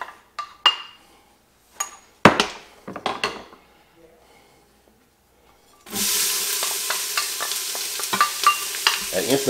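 Onions hit a hot pot and begin sauteing for spare rib chili, a steady close sizzle running for the last few seconds, preceded by scattered clinks of a spoon and pot handling.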